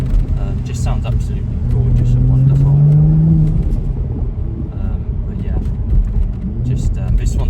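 A Mercedes-Benz SLC43 AMG with a 3.0 V6 biturbo engine, in Sport Plus mode with the exhaust valve fully open, rumbles and swells through a rising rev before settling back, while someone talks over it throughout.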